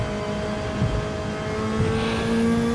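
Car accelerating in the Gran Turismo 7 racing game on the Tokyo Expressway, with a steady engine drone that holds and builds across the short stretch, no voices.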